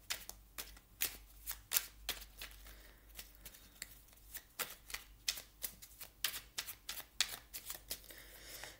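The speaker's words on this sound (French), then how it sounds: "je vais ajouter quand même une carte ici" Tarot cards being shuffled and drawn, a quick series of crisp riffling slaps and flicks in uneven bursts, close and soft.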